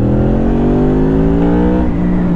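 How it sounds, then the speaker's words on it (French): A 2004 Honda VFR 800 motorcycle V4 engine revs hard and close as its VTEC system engages around 6500 rpm, the pitch climbing steadily in a loud, smooth whine before easing off near the end. "c'est le VTEC qui vient s'enclencher en fait à 6500 tours"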